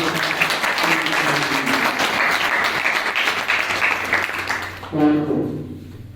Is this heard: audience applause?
yes